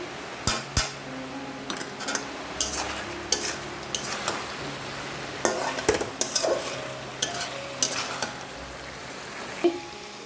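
Meat frying in a pan with ginger paste over lowered gas, a steady soft sizzle broken by repeated sharp clinks and scrapes of a spoon stirring against the pan, close and alone with no talk.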